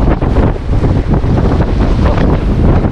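Strong wind roars across a boat at sea off Oriental Mindoro, a steady, loud rush buffeting the microphone with a faint wash of water beneath and no voices.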